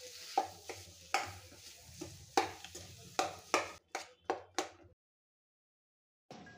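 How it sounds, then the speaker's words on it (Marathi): Mashed potato filling for Mumbai street-style vada pav being stirred and tossed in hot oil in a pan, with repeated scraping strokes of the spatula over a low sizzle, then a pause and a brief final scrape. "व्यवस्थित असं याला तेलामध्ये परतवून घ्यायचं अशा प्रकारे।"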